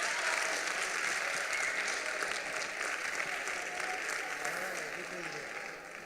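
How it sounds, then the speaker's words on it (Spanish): Audience applause for the finalist team at a school debate tournament final in Spain: steady, full crowd clapping throughout at moderate distance, continuous and even with no break. "un fuerte aplauso, más aún si cabe, al otro equipo finalista"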